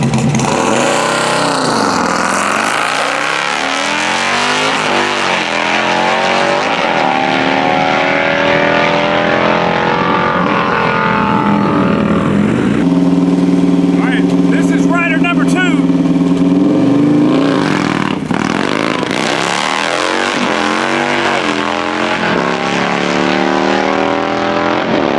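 Motorcycles drag racing at Music City Raceway, engines screaming loud and close through rising gear changes, one pass fading before another bike roars up, with voices over the noise.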